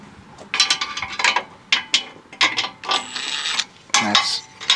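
A ratchet socket wrench from a socket set clicks in quick bursts of rapid ratcheting, close up and loud, with short pauses between strokes and no talking.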